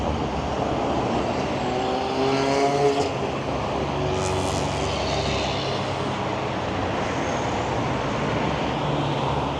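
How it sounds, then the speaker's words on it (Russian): Heavy car traffic in central Luhansk forms a loud, continuous roar of engines, with passing vehicles swelling and fading throughout. No voices can be heard over it. "Трафик очень интенсивный."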